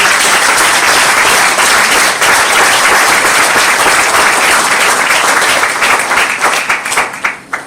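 Loud, dense applause from a lecture audience honoring students at an ICCE 2025 plenary session, sustained and steady before thinning into scattered claps at the end.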